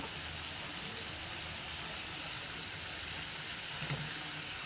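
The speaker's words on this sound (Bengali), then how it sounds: "এখন মশলাটা ভালোভাবে কষিয়ে নিব।" Garlic, ginger and cumin paste fries with green chilies in a pan, a steady broadband sizzle held at an even level throughout, with no one talking.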